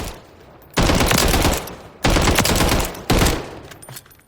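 Three long bursts of automatic fire from a CZ BREN rifle striking armor plates in Call of Duty Modern Warfare III, loud and close, each volley cut off sharply before the next.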